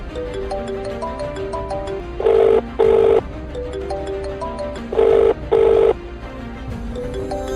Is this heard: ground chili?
no